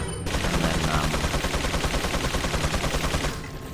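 Sustained rapid gunfire in Resident Evil 4, a dense, loud burst of fast repeated shots lasting about three seconds before cutting off, with no voice over it.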